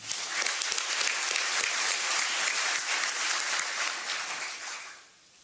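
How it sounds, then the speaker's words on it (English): Sustained crowd applause, dense and steady clapping from a sizable audience at the Birmingham mayor's State of the City address, that fades out near the end. "that applause should be for her"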